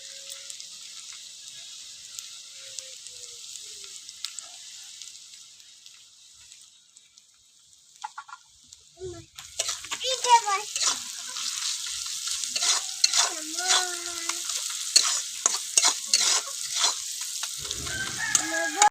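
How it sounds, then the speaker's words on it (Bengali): Onions fry with salt in a pan, a steady sizzle that grows louder partway through, while a rooster crows repeatedly in the background. "পেঁয়াজটা ভালো করে ভেজে নেব"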